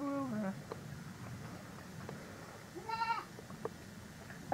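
A baby goat bleats nearby, with a wavering cry at the start and another quivering bleat a few seconds later, separated by quieter background noise, with a couple of short, faint calls in between.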